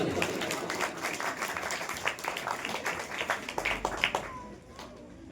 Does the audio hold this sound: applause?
yes